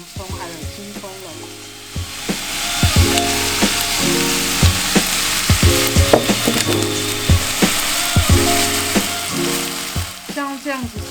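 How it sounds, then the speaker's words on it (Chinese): Onions and scallions frying in hot oil in a cast-iron pot, with a steady loud sizzle throughout. Utensils scrape and clack against the pot as the aromatics are stirred. "锅子热了之后，我们就要来爆香我们的洋葱还有青葱了。"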